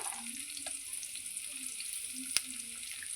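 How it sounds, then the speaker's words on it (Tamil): Pirandai (adamant creeper) sautéing in hot oil for a chutney, giving a soft, steady sizzle and crackle close by. One sharp click cuts through near the end, and the overall level stays quiet throughout. "நல்லா எண்ணெயில் போட்டு வதக்கிடணும் பாருங்கள் எண்ணெயில் போட்டு நல்லா வதங்கிடுச்சு"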